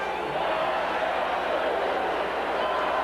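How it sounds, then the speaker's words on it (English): At a 1979 AFC Wildcard game between the Denver Broncos and Houston Oilers, the football stadium crowd sends up a constant, loud roar that fills the air without a break. "Talking about the noise of the crowd, they've come alive now."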